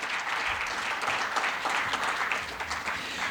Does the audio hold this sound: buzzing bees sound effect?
no